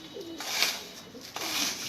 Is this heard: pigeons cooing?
yes